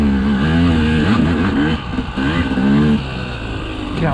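A KTM 200XC two-stroke dirt bike engine revs up and down close by, its pitch rising and falling in a loud, continuous drone with a brief dip partway through.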